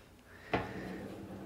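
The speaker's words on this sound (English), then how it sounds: "these are two refrigerator drawers" A refrigerator drawer in a home bar area with matching cabinetry hardware gives a single short thump as it opens or shuts, followed by quiet room tone.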